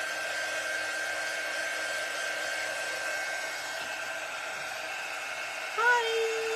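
A hair dryer blows steady and close, drying transfer ink on a shirt during layered shirt printing, a continuous even whoosh that holds throughout with a brief shift near the end.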